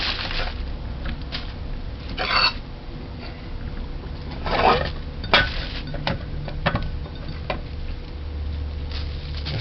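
Beef soup ingredients with basil and parsley being mashed in a pot: repeated close scraping and knocking strokes over a steady background, with a few louder bursts of clatter.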